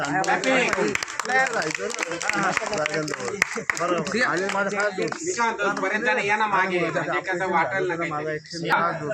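Clapping from a crowd at a village children's musical chairs competition, greeting the winner, steady and dense for several seconds with voices chattering and calling over it throughout.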